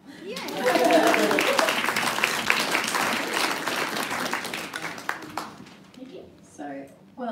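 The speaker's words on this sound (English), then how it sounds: "I think that deserves a clap." An audience at a fashion panel discussion claps for several seconds, loud and dense at first, then thinning and fading out as a voice begins speaking near the end.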